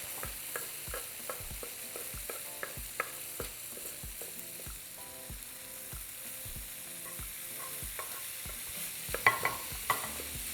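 Shrimp sizzle and fry steadily in a hot pan alongside steak and onions, a continuous crackling hiss broken by frequent sharp spatters and pops throughout, with no talking.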